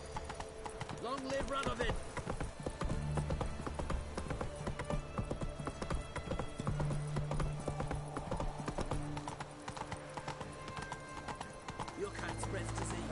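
Roach, the horse in The Witcher 3, keeps up a steady run of close hoofbeats. A voice speaks over the rhythm partway through, and game ambience sits underneath.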